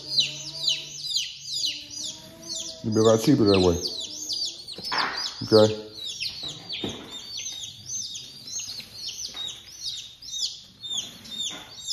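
Young chicks, one of them wet after jumping into water, keep up rapid high-pitched peeping and chirping close by, with a voice speaking briefly in the middle.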